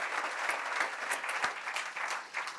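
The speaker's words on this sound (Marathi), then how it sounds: "एकदा जोरदार टाळ्या आपण सरांकरता वाजवायला पाहिजे" An audience at an education talk show claps in a short, fairly distant burst of applause, with scattered individual claps standing out.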